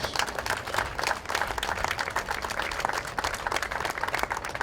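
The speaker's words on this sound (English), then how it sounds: "Let's give them a great big round of applause." Audience applause at a civic community event in Buffalo, a steady dense wash of clapping holding at moderate level throughout with no speech over it.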